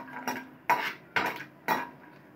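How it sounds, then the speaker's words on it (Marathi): A spoon stirs cashews and almonds roasting in ghee in a pan, making four sharp metallic clinks and scrapes at steady intervals, close and fairly loud, with no voices. "काजू आणि बदामचे कापड छान असे इथे परतून घ्यायचं आपल्याला"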